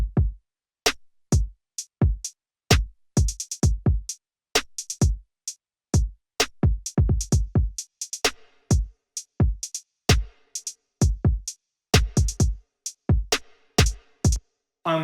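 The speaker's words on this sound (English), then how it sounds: "These are the drums without the reverb." Dry hip hop drum pattern with punchy kicks and sharp snares and hats, played alone with no reverb tail, each hit short and tight in a steady looping groove.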